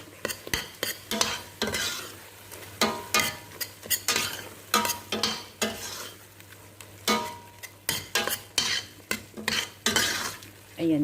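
A utensil stirs chicken sauce with tomato and curry paste in a pan, scraping and clinking in repeated strokes over a soft background sizzle, close and moderately loud with no talking.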